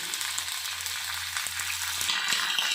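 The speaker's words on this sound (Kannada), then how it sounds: "ದೊಡ್ಡ ಪತ್ರೆ ಎಲೆಯ ನೀಟಾಗಿ ಫ್ರೈ ಮಾಡ್ಕೊಳ್ಳೋಣ" Large patre leaves frying in a little oil in a pan give off a steady, close sizzle with a faint low hum beneath, rising slightly louder toward the end, with no talking.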